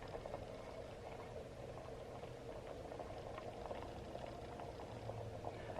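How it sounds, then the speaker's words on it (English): A faint, steady bubbling and hiss of water heating inside a steamer continues throughout the clip, with no voices. "it takes so long for it to steam up"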